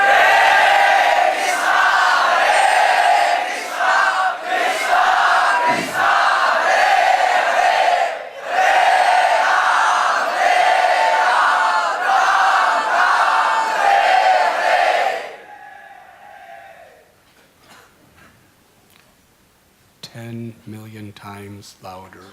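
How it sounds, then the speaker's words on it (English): A large crowd loudly chants the holy name in unison, a sustained, surging chorus for about fifteen seconds that then fades into quiet, with a few faint tones at the end. "desperately, feelingly, and eventually lovingly cry out very loudly the holy name."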